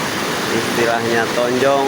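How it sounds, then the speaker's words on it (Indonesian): The Cibentar river rushing at the Curug Leuwi Tonjong waterfall in Kampung Kabelokan gives a steady, loud broadband roar, with someone speaking over it. "Selamat datang di Tonjong, Sungai Cibentar, alirannya yang berada di Kampung Kabelokan"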